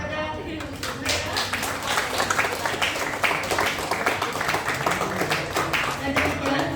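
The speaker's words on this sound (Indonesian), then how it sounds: "Beri aplaus kepada mereka." Seminar audience applauding together, a dense, steady wash of many hands clapping throughout, fairly close and even in loudness, with a voice faintly mixed in underneath.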